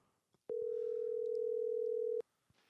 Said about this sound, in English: It's a prank call.